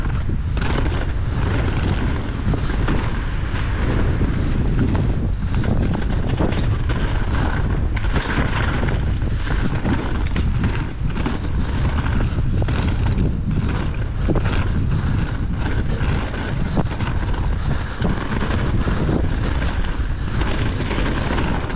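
Heavy wind buffets the microphone throughout, a loud, steady low rumble with gusty surges and no talking, recorded outdoors while a Silverfish Fox is driven in.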